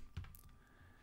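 A few quick keystrokes on a computer keyboard, faint and close, with a soft low thump at the start and quiet background hum.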